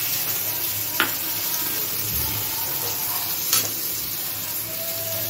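Chopped tomato dropped into hot oil with cooked-down spices for a pointed gourd and prawn curry, a loud steady sizzle close up with a couple of sharp clinks from a spoon, no talk.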